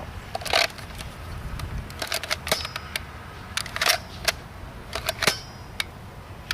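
A Nerf Max Force Rattler blaster fires vintage mega darts in a series of sharp, irregular mechanical snaps and clacks, some in quick pairs, close and fairly quiet with no talking.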